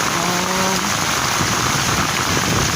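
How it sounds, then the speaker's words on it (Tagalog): Heavy rain pours down in a steady, loud hiss and drumming that never lets up, with a brief faint tonal sound near the start. "Grabe ulan, no?"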